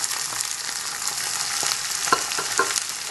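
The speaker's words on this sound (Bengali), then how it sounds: "যখন আমাদের পেঁয়াজটা হালকা একটু ব্রাউন হবে, তখন আমরা ঢ্যাঁড়সটা ছেড়ে দিব" Okra and potato frying in oil with lightly browned onions, a loud, dense, close sizzle with a few scraping stirs near the end and no voices.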